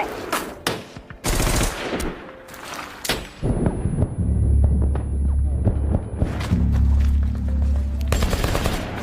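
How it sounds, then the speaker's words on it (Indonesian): Gunfire in a film action scene about an American elite sniper rescuing hostages: loud, close bursts of rapid automatic fire and single shots, broken by short pauses, then a low rumbling throb under continued shooting. "dalam hitungan detik ia langsung melesatkan peluru hingga satu persatu musuh berjatuhan"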